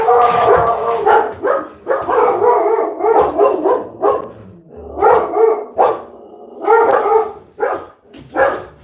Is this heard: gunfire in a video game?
no